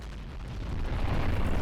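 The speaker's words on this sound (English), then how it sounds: "The explosion is way bigger," A huge meteor explodes in the video game Arma 3 with the Weather Plus mod, producing a deep, dense roaring rumble that swells steadily and stays loud for the full stretch.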